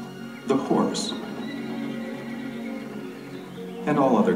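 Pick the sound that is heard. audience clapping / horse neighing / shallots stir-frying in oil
horse neighing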